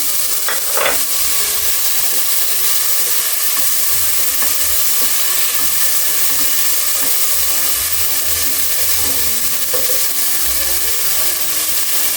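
Chopped capsicum sizzling in a pan of homemade tomato macaroni sauce: a loud, continuous frying sizzle throughout, with occasional stirring scrapes and no talking.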